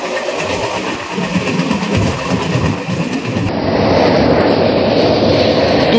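Duronto Express train passing near Bhubaneswar station, a loud continuous rolling rumble with clickety-clack rhythm that swells louder in the second half.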